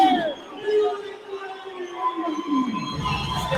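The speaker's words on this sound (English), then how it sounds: "You hear the crowd going wild." Arena crowd at a boxing fight night roaring and cheering in a continuous loud wash, with overlapping voices and whistles swelling and easing across the moment.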